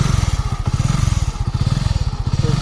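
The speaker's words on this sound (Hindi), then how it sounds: "तो गाड़ी स्टार्ट कर जीवा" Motorcycle engine running with a steady rapid low thumping pulse, close and loud throughout, near a dam.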